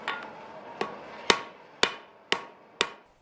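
A blacksmith hammers metal in a historic smithy, with six ringing strikes at a steady, unhurried pace, each with a bright metallic decay, heard close over a faint room hum.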